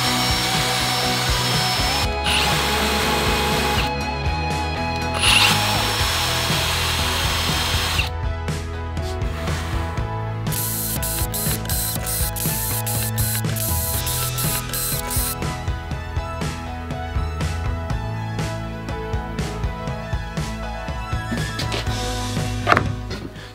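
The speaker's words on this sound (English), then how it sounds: "So that's why I'm countersinking all the holes and then I drill the holes." A power drill whirs steadily while countersinking holes in wood panels for a shop cart, with bursts of high-speed spinning and changing pitch as the bit cuts, loud and close, no talking.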